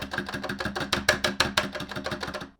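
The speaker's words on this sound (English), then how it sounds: "At the moment, 200 gram springs are installed in all 4 SANWA buttons." SANWA arcade buttons fitted with 200 gram springs, pressed in a quick even sequence of about a dozen close, crisp plastic clicks.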